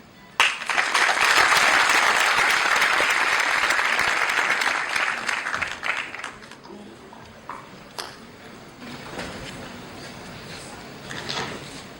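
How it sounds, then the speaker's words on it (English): An audience at a career-services talk breaks into loud, sustained applause for a guest speaker, thinning out after about six seconds into scattered claps and quiet room noise. "Please give a big round of applause to Morgan."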